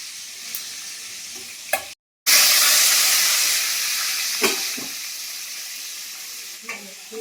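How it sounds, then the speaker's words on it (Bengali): Bay leaves and chillies frying in hot oil with whole spices: a loud, continuous sizzle and crackle, broken by a brief dropout, then a strong hissing burst that slowly settles, with faint stirring clicks and no voices. "তার মধ্যে তেল দিয়ে দিয়েছি পাঁচ দেবো আর তেজপাতা আর লঙ্কা দিয়ে দিয়ে আমি ভালো করে ভাজি"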